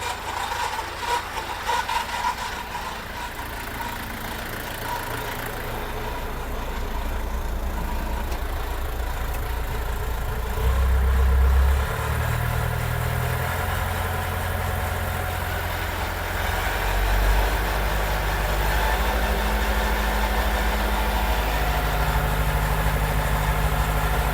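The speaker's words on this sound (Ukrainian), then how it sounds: "запустили косілочку" A small Zarya mower engine runs steadily at idle with a low, constant drone, rising slightly midway as the load changes.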